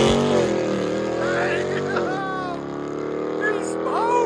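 A 2021 Dodge Durango SRT 392 with a 6.4L HEMI V8 and true dual exhaust accelerating away, its engine roar rising and shifting through gears as it recedes, with people talking over it.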